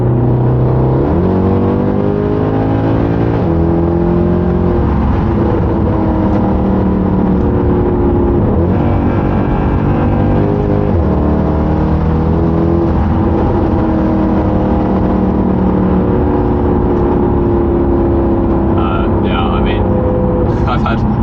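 A 2011 Mercedes C63 AMG Edition 125 engine drones loudly and continuously as the car accelerates on the road, pitch climbing and shifting through gears, while someone talks over the sound throughout.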